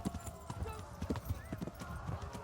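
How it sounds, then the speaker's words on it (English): Horse hooves clip-clopping in a quick riding rhythm in the medieval video game Kingdom Come: Deliverance, with faint game ambience and soft voice sounds underneath. "Riding a horse on first-person perspective feels super weird."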